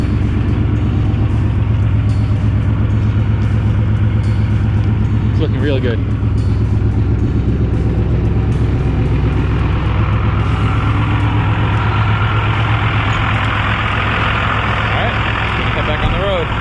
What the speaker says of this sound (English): You can hear the trucks rumbling.